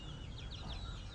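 Chickens in a rooftop chicken house with bamboo perches make soft, repeated clucks and short chirpy calls, close by and continuous over a steady low background hum.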